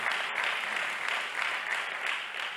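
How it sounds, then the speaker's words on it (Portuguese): A church congregation applauds in a steady, moderately loud wash of clapping that continues throughout without a break. "Aplauda o Senhor Jesus pela vida dessa grande serva de Deus."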